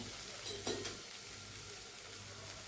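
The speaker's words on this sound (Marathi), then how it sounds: "इथे आपण परतून घेऊया मसाला हा मध्यम फ्लेवरती छान परतून घ्यायचा आहे" Masala is sautéed in a pan on medium heat for a chana dal and pumpkin curry: a steady, close sizzle and frying hiss with a couple of brief stirring scrapes near the start.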